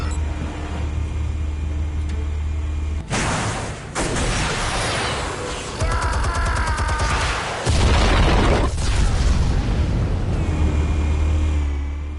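Explosives detonating in the Batman Telltale Series video game: heavy booming blasts at about 3, 4 and 7.5 seconds, each followed by loud rumbling debris and crackle over a constant low drone, with no talk.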